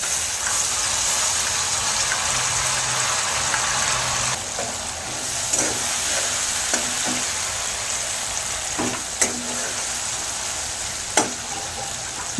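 Asafoetida and panch phoron spices fry in oil in a pan, a continuous bright sizzle close by, broken by a few sharp clinks and stirring scrapes of the utensil.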